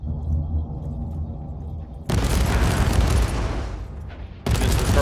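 Heavy sustained turret gunfire in the Warhammer 40k: Inquisitor-Martyr video game, a dense, loud, booming fusillade that breaks out after a quieter rumbling stretch and runs almost unbroken, with one brief lull before it resumes.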